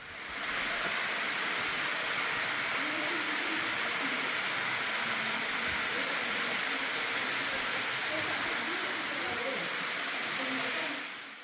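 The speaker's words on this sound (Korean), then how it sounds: "이곳은 등선 제1폭포입니다." Deungseon First Waterfall in a deep rocky gorge pours into a pool below cliffs, giving a dense, steady roar that stays constant throughout.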